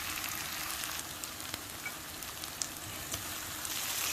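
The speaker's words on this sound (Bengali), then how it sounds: "আমি আরও 4 থেকে 5 মিনিট এগুলোকে অল্প আঁচে ভাজা ভাজা করে নিব।" Potato pieces fry over low heat in a pan, giving a soft, even sizzle with faint crackles throughout and no voices.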